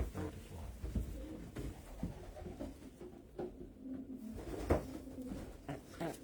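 Homing pigeons coo softly inside a loft, low repeated throaty calls over faint background shuffling and occasional taps, quiet and close with no talking.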